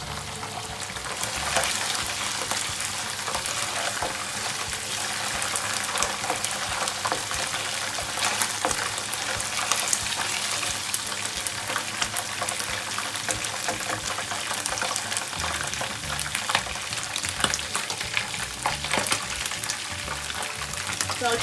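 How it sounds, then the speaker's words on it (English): Onions browning in a pan for a quick mackerel stew give a dense, loud, continuous frying hiss with crackles throughout, steady from start to end; stirring is not clearly separated within the wash of sizzle. "and I stir. You can see the onions is getting brown"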